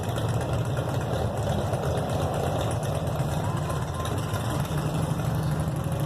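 Several Harley-Davidson motorcycles idle outside a seafood restaurant, a steady low engine rumble that runs without break while people talk nearby.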